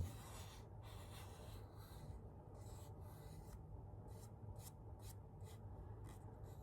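A sanding block rubs back and forth across a leather wallet in quiet, close, rhythmic rasping strokes, the scrapes growing shorter and quicker toward the end, with no speech.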